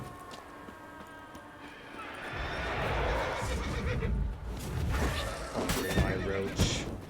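The horse Roach from The Witcher 3 whinnies loudly and snorts, with hooves clopping and game ambience around it, near and prominent.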